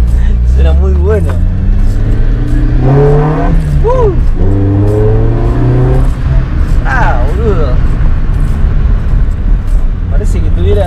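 A Chevrolet Corsa engine with a direct air intake drones loud and near, pitch sweeping up and down through several revs over a low constant rumble, no talking heard.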